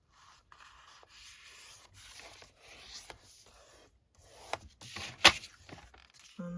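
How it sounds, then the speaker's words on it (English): A page from a modern book is folded in half for a junk journal, making soft papery rustles and rubbing swipes as the crease is pressed, faint and close, with one sharper crinkle. "we can just fold it over in half"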